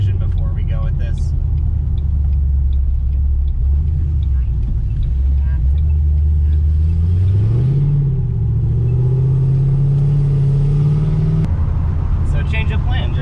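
A supercharged 3-valve Mustang GT with a swapped 6R80 transmission drives around the block, a loud, steady low engine rumble that rises in pitch midway as it accelerates, with a person talking over it.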